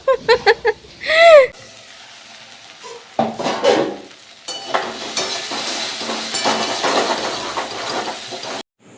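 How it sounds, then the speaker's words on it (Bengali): Okra frying in hot oil with panch phoron and green chilli, a steady loud sizzle that builds after a few clinks and stirring scrapes of a utensil in the pan, with brief voices near the start. "তেল পাঁচফোড়ন দিয়ে কাঁচা লঙ্কা দিয়ে ভালো করে ঢ্যাঁড়সগুলো ভেজে"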